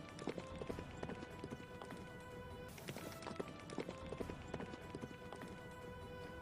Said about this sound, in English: Kusha, do you hear that? It sounds like galloping.